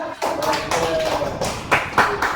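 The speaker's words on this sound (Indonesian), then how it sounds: "Tepuk tangan dulu mana?" A group of students in a classroom claps for a classmate, producing a dense patter of hands with a few sharper accented claps, close by and fairly loud.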